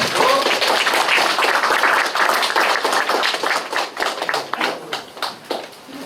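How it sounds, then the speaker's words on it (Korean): Hearty audience applause welcoming a speaker at a Busan citizens' forum on the general election: loud, dense clapping that holds steady, then thins into individual claps and fades toward the end. "힘찬 박수로 모시도록 하겠습니다"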